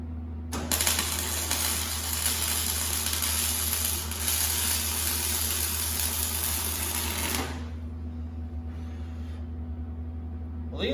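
A box being tack welded onto a motorcycle frame during a hardtail conversion, a loud steady welding buzz lasting about seven seconds before cutting off to a low background hum.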